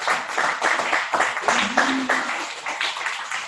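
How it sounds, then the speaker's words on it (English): A room at a sales meeting claps for a colleague's Signature Service Award, with steady, moderately loud clapping and some voices mixed in. "So give her a round of applause, please."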